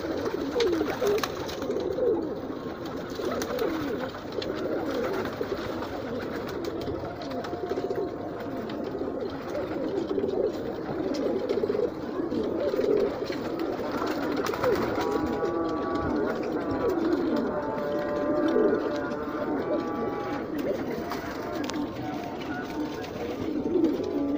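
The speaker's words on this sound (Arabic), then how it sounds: "برضه فرد حمام جديد، فالحمام عارف ان هو فرد حمام غريب عن الناس" Domestic pigeons coo repeatedly around their loft as a newcomer is introduced, with soft throaty calls rising and falling throughout while someone talks over them.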